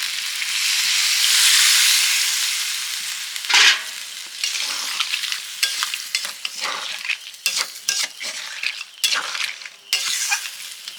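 Water poured into crab curry frying in a pan sends up a loud, close rushing hiss that swells and fades over a few seconds, followed by irregular stirring scrapes and light clinks against the pan.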